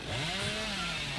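A video game chainsaw revs loudly and steadily at close range, a continuous buzzing engine drone with no talk over it.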